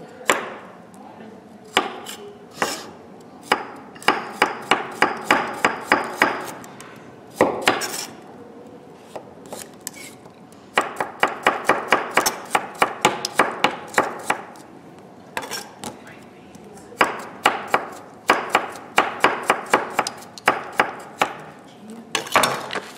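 A knife chopping carrots on a board for winter soup, in quick rhythmic runs of sharp close taps with short pauses between the bursts, loud and clear.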